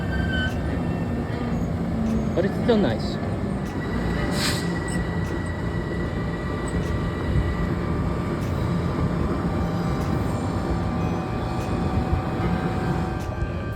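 A Harlem Line electric multiple-unit train hums steadily as it passes, a low continuous drone with faint wheel squeal, heard from a bridge, with someone briefly speaking.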